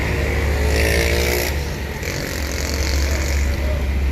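A Sinar Jaya Suites Class luxury bus hums at low pitch as it turns around, a steady, close engine drone over background street noise.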